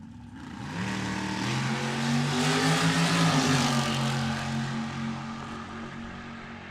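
Two dragsters roar down a drag strip together, a loud sustained engine howl that swells to a peak and then fades slightly as the cars pull away.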